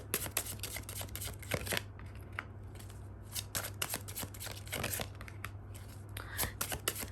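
Tarot cards being handled and drawn for a reading, with crisp shuffling, flicking and papery riffles in close, quiet bursts with short pauses between.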